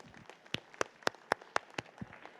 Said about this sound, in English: if you would give another big round of applause to all of our finalists